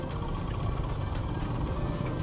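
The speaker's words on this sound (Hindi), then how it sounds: "देख रहे हो ट्रैफिक" Steady road traffic in Srinagar, Kashmir, a continuous wash of passing engines and tyre noise at moderate distance, with no talking.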